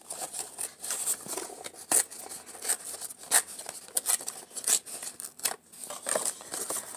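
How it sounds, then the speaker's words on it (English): Cardboard is ripped by hand in short, rasping tears and crackles, close and fairly quiet, in irregular bursts. "You can rip the cardboard."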